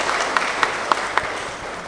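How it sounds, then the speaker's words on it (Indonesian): A quiet spread of applause at an Indonesian community religious gathering, light and sparse, with a few sharper individual claps standing out over the soft patter. "Tepuk tangan untuk Bapak Ibu semua."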